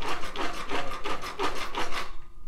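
Ungreased shocks on a Tamiya Mad Bull RC car rub and squeak as the suspension is worked, giving a close, rhythmic scraping stroke about five times in a row with no talk.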